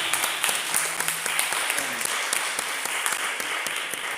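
A round of audience applause for Captain Farnham at a gathering on everyday racism, loud continuous clapping from a crowd with occasional sharper individual claps throughout.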